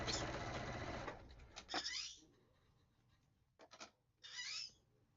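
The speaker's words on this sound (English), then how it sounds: "So now I'm sewing on the letter C to over here, which is a lighter pink" A sewing machine stitches a pink letter appliqué onto a mystery quilt in two quick close bursts separated by a quiet pause with soft handling noises.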